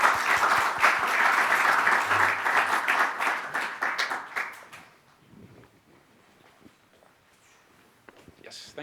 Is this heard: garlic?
no